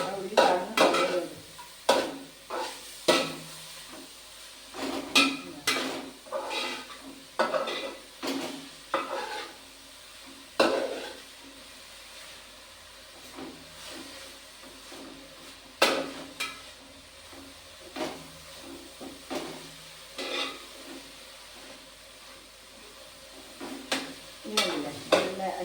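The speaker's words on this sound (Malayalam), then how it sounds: "നല്ല അടിപൊളി വറവായി വരുന്നു." Kappakka (karamus) slices frying in hot oil, with a steady sizzle punctuated by frequent sharp stirring scrapes and clinks of a utensil against the pan.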